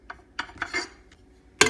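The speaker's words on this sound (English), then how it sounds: "I grate about a teaspoon of" Nutmeg rasped on a grater for Jamaican toto: a few short, scratchy strokes spaced irregularly, close and fairly quiet, with a sharper clink at the end.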